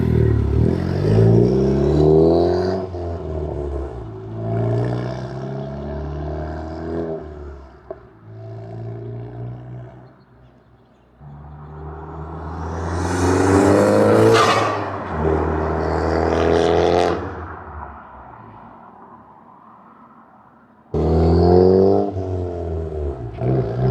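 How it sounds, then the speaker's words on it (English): A 10th-generation Honda Civic Si engine with a PRL catted downpipe and Remark exhaust revs hard several times, rising and falling with crackles between pulls, loud and close. "PRL catted downpipe paired with the Remark exhaust."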